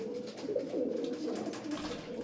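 Pigeons cooing close by in a bird dealer's loft, soft throaty low burbling calls overlapping continuously, with no talking.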